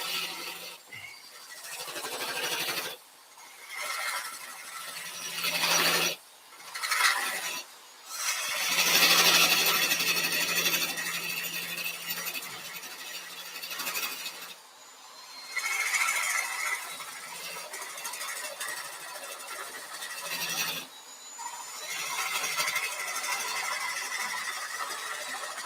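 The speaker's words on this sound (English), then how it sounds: "I'm back with my cutoff tool. I'm going to make my tenon." A lathe cutoff tool turns a tenon on a workpiece, giving a scraping, squealing cutting noise in uneven stretches with short pauses in between. The sound is moderately loud and close.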